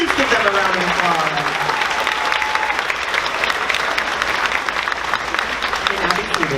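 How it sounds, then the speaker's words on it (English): A sixth-grade graduation audience claps in a sustained burst of dense, even applause, with a voice speaking over the start. "Please give them a round of applause."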